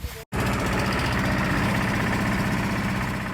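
A tractor engine idles and runs steadily in a field, a loud, continuous low rumble with a brief dropout near the start, close by and with no talk over it.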